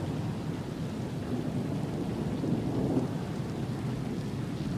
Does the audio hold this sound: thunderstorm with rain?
yes